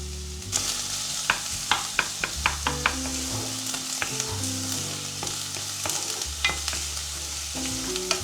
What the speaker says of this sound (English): Add some vegetable oil to the pan. Roast the onions.